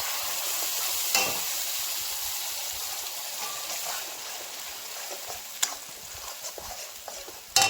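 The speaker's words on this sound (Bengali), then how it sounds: "পেঁয়াজটা লাল লাল করে ভাজা হয়ে গেছে এখন দিয়ে দেবো ক্যাপসিকাম বাটা" Capsicum paste and mixed spices frying with browned onions in a home kitchen pan, a steady soft sizzle throughout with a few sharp clinks of a utensil against the pan.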